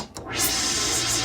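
A dense, noisy Korg Poly-800 synthesizer wash sweeps in and sustains, hissy and whooshing like an old science-fiction effect, loud and unbroken.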